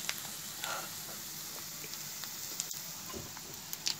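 Onions and mixed vegetables sautéing in a pan give a faint, steady sizzle with small crackles and pops scattered across it, quiet and close.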